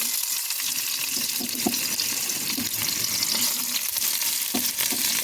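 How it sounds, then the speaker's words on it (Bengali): Chopped onion goes into hot oil for vegetable and egg noodles, giving a loud, constant close-up sizzle with scattered crackles and stirring scrapes throughout. "তেল গরম হয়ে গেছে, এখন আমি দিয়ে দেবো পেঁয়াজ কুচি"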